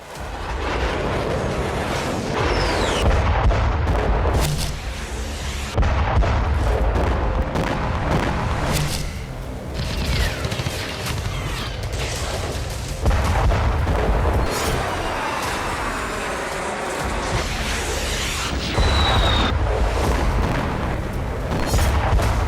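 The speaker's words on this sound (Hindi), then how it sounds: "एक के बाद एक धमाके हो रहे हैं।" Heavy explosions boom one after another, loud deep blasts repeating at irregular intervals amid a continuous rumbling roar.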